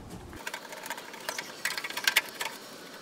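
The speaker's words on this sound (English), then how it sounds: "You just need a Phillips screwdriver. There's two screws, and they're just threaded into the metal." A Phillips screwdriver turns screws threaded into the metal of a Traeger Pro grill controller, making a quiet run of small, rapid ratcheting clicks close by that get a little busier partway through.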